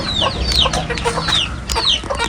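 Aseel fighting roosters and chickens in a home coop setup cluck and call repeatedly, several close, overlapping bird voices with sharp rising chirps and short cackles throughout.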